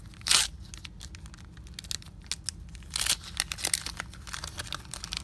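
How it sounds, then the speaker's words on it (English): Foil wrapper of a Donruss baseball card pack tearing open up close, one sharp rip at the start and another burst of crinkly tearing around the middle, with faint rustling between, no talking. "I'm going to rip these open for all you."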